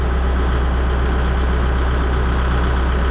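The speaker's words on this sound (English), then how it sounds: "All right, so tractor's running." A Kubota tractor engine runs at a steady idle, a loud continuous low diesel rumble with an even throb and no change in speed or load, and nobody talking.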